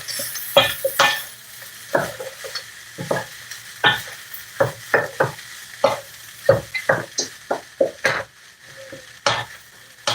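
Frozen vegetables frying in a pan for shrimp fried rice, with a steady sizzle under repeated sharp scrapes and clinks of a utensil stirring against the pan, close and loud, no talk.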